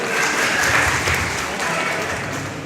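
Sustained crowd applause at a Gujarati stage programme, many hands clapping in a thick, even wash with a faint voice underneath, holding steady before easing slightly toward the end.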